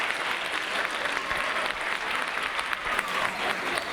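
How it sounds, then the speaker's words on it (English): Steady, dense applause fills a room as an audience claps for presenters at a college admissions panel, an even roar of many hands with no voices standing out. "I would like everyone to give a great round of applause to our presenters."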